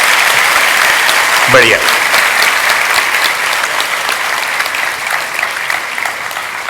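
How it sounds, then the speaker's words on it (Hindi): Sustained crowd clapping fills a freshers' welcome celebration hall at a university, loud at first and slowly easing, while a voice briefly speaks over it near the start. "ताली बजाने से हृदय रोग नहीं होता। बजाओ बजाओ बजाओ बजाओ बजाओ"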